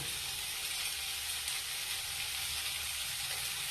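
Eggplant frying in oil with grated coconut scattered over it, a steady close sizzle that holds evenly throughout with no voices.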